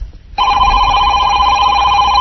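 Telephone ringing at the start of a prank phone call on a radio show, a loud steady electronic ring that starts abruptly after a brief near-silent moment and holds continuously.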